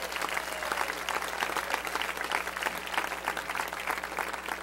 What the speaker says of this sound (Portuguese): Quantos podem aplaudir a grandeza de Jeová?